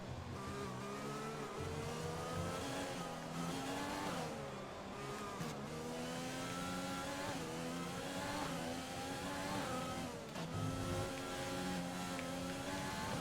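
An F1 race car in the video game F1 2020 slides through a corner, its engine roaring and shifting pitch continuously at high revs with tire squeal, loud and steady with no talking.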